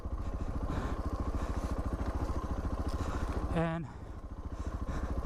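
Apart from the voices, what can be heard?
Suzuki DR650 motorcycle riding in the desert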